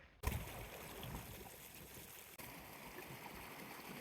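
Snowmelt water runs beneath a snowbank near Saddlebag Lake in Yosemite's alpine high country, a faint, steady rushing and trickling with a brief bump at the start and a short dip partway through.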